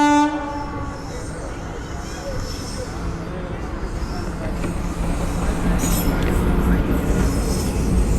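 A train rolls past a closed railway gate near Nagercoil while a rider waits on a ZX10R motorcycle, its horn sounding at the start before a loud, steady rumble of wheels and wagons fills the rest, with faint talk underneath.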